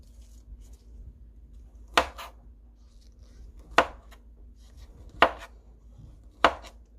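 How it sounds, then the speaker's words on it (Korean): A knife chops through a banana on a cutting board in four sharp, separate cuts spaced a second or more apart, close and clear over a quiet room hum. "이제 바나나를 한번 잘라볼 거예요"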